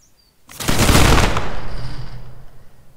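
Musket volley fire in the Revolutionary War video game Prime and Load 1776: a single loud, dense burst of many simultaneous shots that rolls out into a long echoing decay, with no voices.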